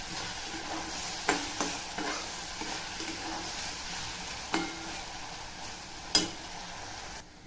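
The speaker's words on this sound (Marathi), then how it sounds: "आता मी हा मसाला टाकते वाटलेला आणि छान ह्याला असं मिक्स करून घेते" Ground masala with tomatoes and onions sizzles and fries in a pan for a home-style chicken curry, a steady soft hiss with a few sharp spoon knocks against the pan as it is stirred.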